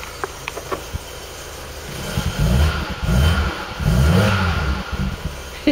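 A VW Mk1 Golf GTI engine idles near the microphone, then revs up in a few rising surges before settling back down, with a faint high-pitched whine heard throughout.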